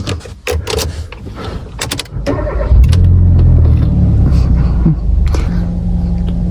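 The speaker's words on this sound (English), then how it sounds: "To start the car, there's a key hidden inside the remote control." A 2016 Kia Rio sedan is started with a key: a short cranking burst, then the engine catches and settles into a steady, loud idle hum heard from inside the car.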